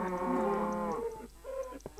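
Minecraft cows moo in long, drawn-out calls that overlap, close and fairly loud, with a lower bellow trailing off at the end.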